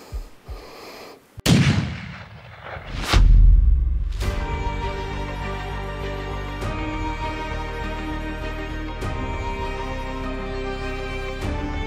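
A single loud rifle shot fired at a hog during a nighttime hog hunt, preceded by quiet breathing and followed by a long ringing decay.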